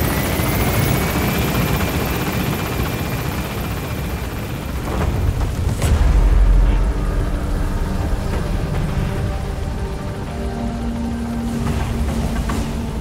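Extraction helicopter arriving in Metal Gear Solid V, with loud, continuous rotor thrum and engine roar dominating throughout, swelling briefly midway with a deep rumble, no talking.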